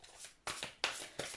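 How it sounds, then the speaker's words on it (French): Tarot cards shuffled by hand before a reading, four crisp riffling bursts at a steady rhythm, close and fairly soft, with no speech. "Je vais tirer juste quelques cartes."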